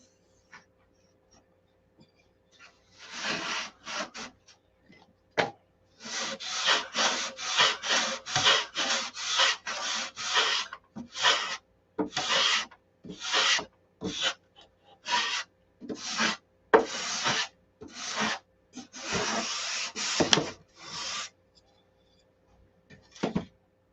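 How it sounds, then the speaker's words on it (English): A BMW car body being sanded by hand gives off repeated rasping strokes, loud and close, coming in short rhythmic bursts separated by brief pauses. "Ain't nothing like a sand job on a Beamer."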